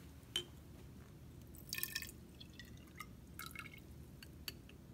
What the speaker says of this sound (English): I'm going to pour this test tube water into 100 milliliter measuring cylinder.